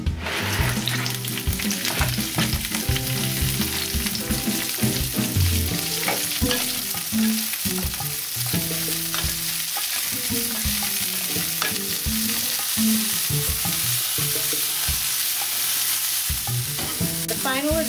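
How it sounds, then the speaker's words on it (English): Vegetables sauté in a pan as the base for an organic risotto, with steady frying sizzle and repeated scraping stir strokes throughout, loud and close, no voices. "This is just going to be sauteing vegetables."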